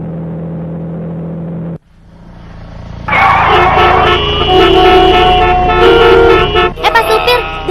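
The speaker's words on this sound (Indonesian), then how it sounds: "Itu diklaksonin pengendara lain." Other drivers lean on their horns in traffic, a loud sustained honk first, then after a brief drop, several horns blare together over engine rumble, with a few shorter toots at the end.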